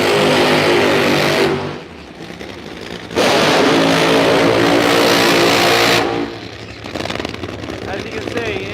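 Top Fuel dragster engines rev at a drag racing event, two loud, harsh bursts of roaring engine noise split by a quieter gap, with rougher rumbling and some crowd-like sound at the end.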